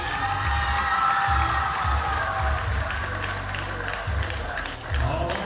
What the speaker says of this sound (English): a big round of applause for our Lyon County Lady Lions cheerleaders